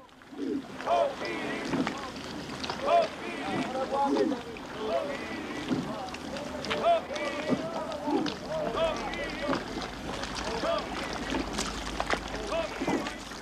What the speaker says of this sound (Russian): Затем гребцы вновь одновременно опускают весла в воду.